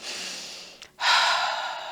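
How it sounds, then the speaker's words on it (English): A long, steady breath pushed out through the mouth in a yoga session, a soft airy rush that holds for most of the moment, broken by a short pause and a fresh, louder exhale. "an inhalation through the nose, and a nice long exhale through the mouth"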